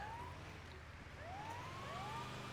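Ambulance siren in a video game, a wailing rising-and-falling tone heard at moderate distance against a low rumbling engine background, continuous throughout.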